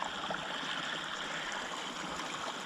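Water flowing steadily in a stream near Mother Cap rocks where it runs underground, a continuous broadband rush and burble, close by and fairly loud, with no voices.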